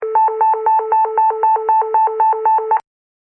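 Phone app notification alert for a cardiac arrest emergency: a loud, rapid electronic warble of two alternating tones, repeating about a dozen times evenly, then cutting off into silence, with no talking.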